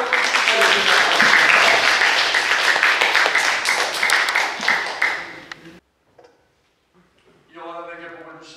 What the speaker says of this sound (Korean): 우리 함께 박수 쳐주십시오.